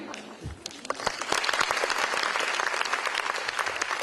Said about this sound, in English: Thank God they clap.